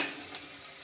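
Onion with coriander powder and asafoetida sizzles steadily in a kadhai while being stirred, a brief, continuous hiss with no talking.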